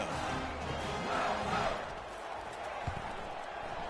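A home crowd at an SEC college football stadium cheers in a broad, steady roar that swells briefly and then settles into a sustained crowd wash.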